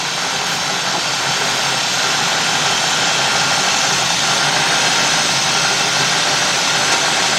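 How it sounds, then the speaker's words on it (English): A steady, even car engine idle close by, from a rough-running GM car smoothing out, a constant low rumble with broadband hiss that holds smooth and unchanging throughout. "the engine evened out, it smoothed out right around there"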